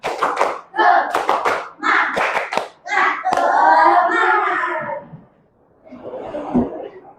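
A classroom of children doing a rhythmic spirit clap: bursts of group clapping in short patterned runs, broken by chanted voices and a sustained shout, then a pause and a final softer round of claps.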